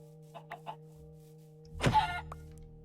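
Chickens in a Minecraft-style block game give a few short clucks, followed by a louder burst of game sound, over a steady background hum.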